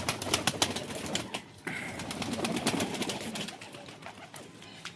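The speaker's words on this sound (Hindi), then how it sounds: "सारे कबूतर आ रहे हैं बाहर।" Pigeons spilling out of an opened coop, with a dense run of wing flaps and flutters, close and loud, with soft coos mixed in.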